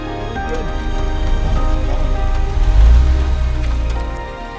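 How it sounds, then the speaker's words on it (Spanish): Heavy tropical downpour during a mountain trail running race in Colombia, a steady dense hiss of rain hitting surfaces that swells louder in the middle before easing slightly, with no voices. "esto no para de llover, es un aguacero tremendo"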